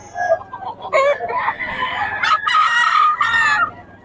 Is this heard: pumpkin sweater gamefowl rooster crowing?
yes